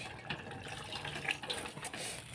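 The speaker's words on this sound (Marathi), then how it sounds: "काय सांडलं ग पाणी" Water spills and trickles briefly in a home kitchen, a soft, close splashing with faint clatter, no talk.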